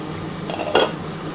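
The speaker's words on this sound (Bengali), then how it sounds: "দেখি ঢাকাটা খুলে।" The lid of a pot of chicken curry is lifted off, giving a single short metallic clank and rattle over quiet background hiss.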